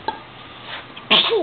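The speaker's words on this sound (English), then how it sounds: "Is that funny when you sneeze?" A single sharp, sudden sneeze bursts out near the end after a stretch of quiet room noise with faint background sounds.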